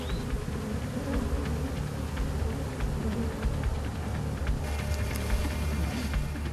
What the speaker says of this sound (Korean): 우선 벌들을 털어내 이동시킨 후 탈분기를 이용해 말끔하게 정리해 줍니다.